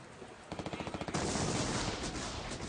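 Gunfire in a firefight between police and terrorists: a rapid burst of about a dozen sharp shots, followed by a dense, continuous crackle of heavy firing, fairly loud and without voices.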